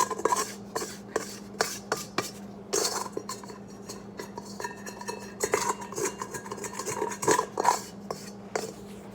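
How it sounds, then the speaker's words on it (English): A flexible bowl scraper drags and knocks around the inside of a mixing bowl, working lean yeast dough and its ingredients free, giving a run of close scraping strokes and light clunks of varying loudness with no voices. "Using my bowl scraper, I'm going to get all of those ingredients out."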